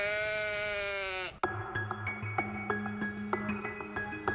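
A sheep bleats in a long, wavering, strongly pitched call, then breaks off into sparse clinks and knocks with a rhythmic tonal background.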